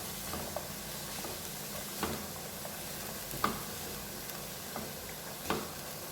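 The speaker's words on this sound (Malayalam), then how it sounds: "നമുക്ക് ക്യാരറ്റ് ഒന്ന് വഴന്നതിന് ശേഷം നമുക്ക് ക്യാപ്സിക്കം ഇട്ട് കൊടുക്കാം." Carrots sautéing in a pan for a chicken vegetable dish, a soft steady sizzle with a few sharp stir and scrape clicks of a spoon against the pan, no talking.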